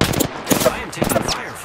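Automatic gunfire in Apex Legends on PS4, rapid bursts of shots that come and go across the moment, fairly close and loud, with game effects layered underneath.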